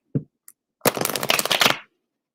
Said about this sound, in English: Cards don't even want to shuffle for that one.